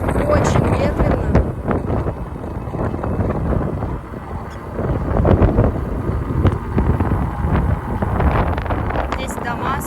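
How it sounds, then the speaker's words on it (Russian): Strong wind buffets the microphone outdoors in Turkey, a continuous rough rumbling roar that surges and eases throughout, with a voice talking over it. "Очень ветрено."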